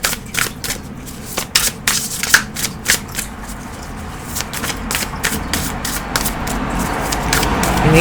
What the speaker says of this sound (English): Cards are a little sticky here.